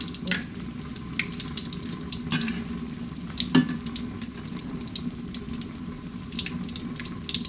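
Mushroom fish frying in a pan, a steady, fairly soft sizzle running throughout with a few stirring clinks and a brief sharp knock partway through.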